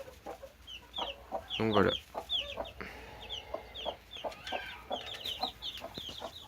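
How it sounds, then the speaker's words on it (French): Pekin and Brahma chicks and hens clucking and peeping close by, a steady scatter of high chirps with a louder burst of hen clucks, under brief speech. "Donc au total là ça me fait 24 poussins, dont 13 pékins et donc le reste en Brahma."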